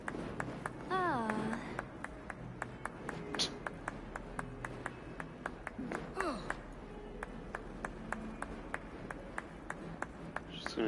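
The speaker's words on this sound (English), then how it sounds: "Just gonna keep clapping." A person claps their hands in a steady, even rhythm, each clap faint and sharp. The claps run on continuously while voices talk over them.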